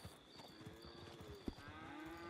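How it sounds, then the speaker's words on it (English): Two short cow moos in Red Dead Redemption 2, drawn-out low lowing calls heard faintly among soft hoof clip-clops and quiet outdoor game ambience. "Look at this cow."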